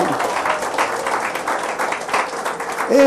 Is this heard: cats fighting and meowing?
no